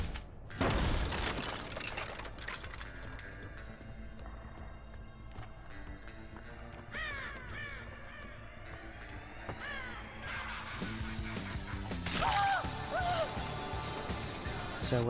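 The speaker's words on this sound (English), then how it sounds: "just tipped that crow off to me." Crow cawing in the video game Dead by Daylight, several harsh caws and flapping bursts over mechanical in-game ambience, loud and close.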